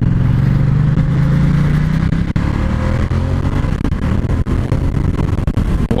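A loud Ducati X Diavel motorcycle engine revving and accelerating, pitch rising then a gritty roar with clattery bursts, close up.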